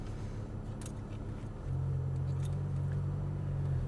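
A 525 hp Audi R8 V10 pulls away in first gear, its steady low engine drone stepping up to a louder, fuller hum partway through and then holding even and close.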